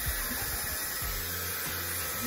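A Dyson AirWrap hair dryer with a diffuser attachment runs steadily, giving a loud, continuous high-pitched whine with a airy rush, close to the microphone and uninterrupted throughout.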